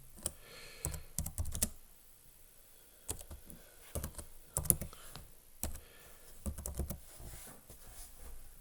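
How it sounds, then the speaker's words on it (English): Keys clatter on a computer keyboard in short irregular bursts of typing separated by pauses, fairly close and quiet, with no talk over it. "where you can type in the username"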